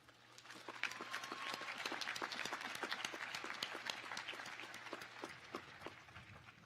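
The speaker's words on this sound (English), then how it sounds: "Give yourselves a round of applause for that." Audience applause fills a commencement ceremony hall, a dense steady wash of many hands clapping at moderate distance, sustained for several seconds before beginning to thin out.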